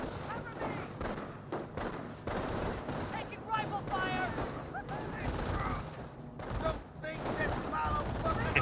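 Gunfire on a rifleman squad in the video game Company of Heroes: bursts of rifle and machine-gun fire crackle steadily throughout, mixed with thuds, while a commentator talks over the battle.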